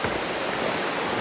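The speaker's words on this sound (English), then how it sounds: "Oh, look at that. We got a little waterfall." A small waterfall near Lake Superior in the Porcupine Mountains gives a steady, loud broadband rush of falling water, continuous and alone.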